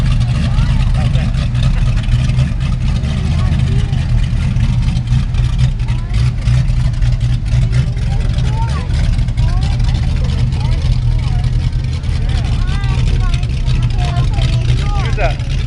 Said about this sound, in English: driving her dad's tractor that her grandfather built for her dad many years ago